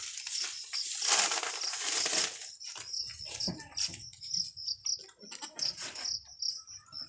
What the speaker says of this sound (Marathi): ही आमची चिमणी